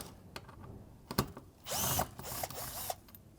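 A power driver spins T30 screws out of the lower radiator bushings on a Porsche Macan, giving short ratcheting bursts and one longer whir, close and fairly loud, with light clicks between.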